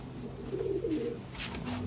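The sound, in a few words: Giribaj pigeons cooing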